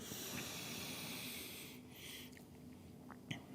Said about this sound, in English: Let's do 4 more deep yogic breaths here.